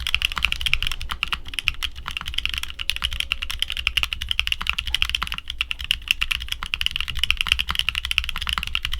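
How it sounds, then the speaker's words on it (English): Steady typing on a mechanical keyboard with Venus and Neptune linear switches, a dense run of quiet, deep clacks close up with no speech. "the Venus and Neptune switches have a fairly deep sound signature, and is on the quieter side as well."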